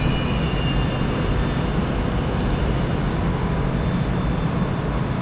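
London Underground Piccadilly Line train sounding as a steady, loud low rumble and hum throughout, with no voices and no change in level.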